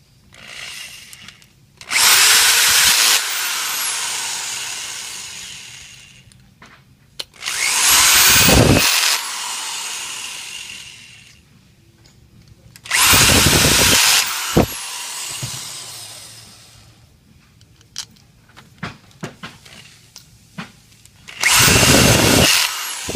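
A power drill drives in the four screws of a 5800 pump head, running in four loud bursts of a few seconds each, separated by quieter pauses with faint clicks and handling.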